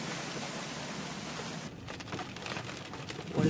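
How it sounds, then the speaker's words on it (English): Heavy rain pours beside a house during a flood, a steady broadband wash of falling water and runoff that stays loud and close throughout, with no voices. "We're having a really bad rain."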